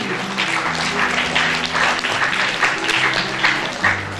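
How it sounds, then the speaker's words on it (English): Audience at a literary festival workshop session clapping steadily throughout, with murmuring voices and a low hum underneath. "A huge round of applause for Ma'am Dr."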